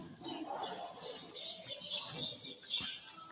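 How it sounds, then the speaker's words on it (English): Small birds chirp and tweet inside a cork factory, several overlapping high calls scattered over a steady indoor background hum, moderately distant with no clear talk. "Yeah, lots of birds in here."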